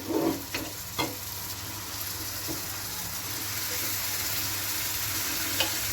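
Saag tipped into a hot spice tempering in a pan, giving a steady broadband sizzle that holds for several seconds, with a few sharp clatters of the spoon or pan near the start.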